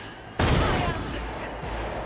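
A sudden loud grenade blast in Warhammer 40k Rogue Trader, a sharp onset followed by a sustained roaring rumble that fades slowly over about a second and a half.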